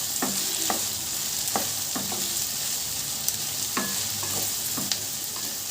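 Green chillies and about ten cashew nuts fry in a pan, giving a steady close sizzle broken by a few sharp spatula scrapes and clinks, with no voices.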